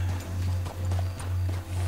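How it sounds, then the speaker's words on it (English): A horse's hooves clip-clop in a steady, even rhythm in the video game Red Dead Redemption 2. The hoofbeats are close and clear over a constant low hum. "Let me hitch my horse over here."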